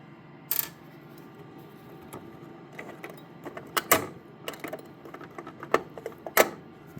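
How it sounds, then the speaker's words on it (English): Small screws are lifted out of a laser engraver's CPU board area with needle-nose pliers, giving sparse light metallic clicks and ticks at irregular intervals, close and quiet. "So now I can take my needle nose and pick up the screws and get them out of there carefully."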